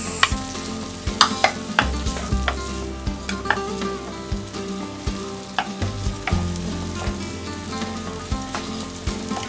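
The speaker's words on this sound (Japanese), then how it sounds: "ベーコン炒めます。" Bacon fries in melted butter in a pan, with a loud, steady sizzle close by and repeated scraping and clattering of stirring throughout.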